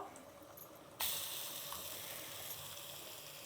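Chutney is tipped into a hot seasoning tempering for idli, setting off a sudden loud sizzle that keeps hissing steadily afterward, close and with no talking.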